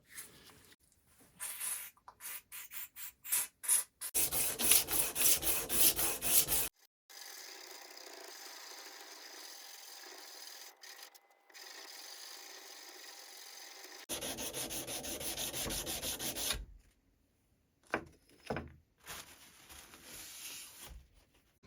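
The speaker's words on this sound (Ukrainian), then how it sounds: "Це все я трішечки відшліфував, відполірував" A Damascus steel knife blade, forged from circular saw and bandsaw steel, is sanded and polished by hand in repeated rasping strokes, with bursts of steady rubbing and short pauses. It sounds close and fairly quiet, with no talk.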